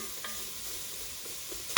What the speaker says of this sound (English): So give it a good mix around, and they'll get coated with the fat from the chorizo